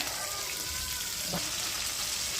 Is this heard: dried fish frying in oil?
yes